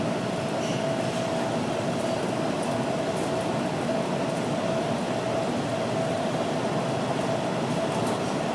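Los Angeles Metro Rail subway train pulling into Civic Center station on Hill Street, a steady loud rumble and hiss of wheels and cabin noise heard from inside the car, with a faint whine throughout.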